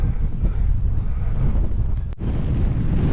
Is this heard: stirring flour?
no